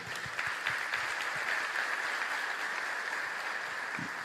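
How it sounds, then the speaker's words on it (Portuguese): Congregation applauding during a church sermon, a steady wash of clapping filling the room throughout at an even level with no speech over it. "pode aplaudir o Senhor"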